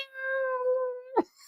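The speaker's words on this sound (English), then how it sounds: "meow" A cat meowing: one long, steady meow of about a second that ends in a short, sharp rising squeak, close and clear against a quiet background.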